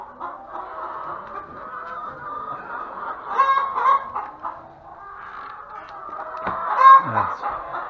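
A flock of chickens clucks and squawks continuously, with a couple of louder honking cries rising above the steady murmur.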